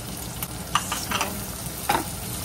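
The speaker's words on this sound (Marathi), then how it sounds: "सो ऑनियन्स एड करुया हितून आनी तेका आतां बरें भाजून घेवपाचें कांद्याक." Chopped onions fry in oil in a pan with a steady, close hiss of sizzling and a few light spatula scrapes breaking through, no voices.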